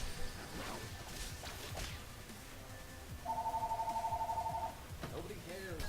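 A telephone rings once in a rapid electronic trill lasting about a second and a half, heard faintly over game sounds, with someone talking around it.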